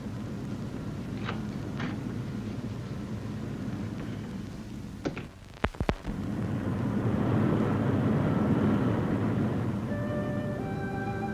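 Steady, full-bodied airplane engine drone inside a radio drama, a continuous low rumble that dips briefly around a couple of sharp clicks midway, then swells back slightly louder with faint tonal signals near the end.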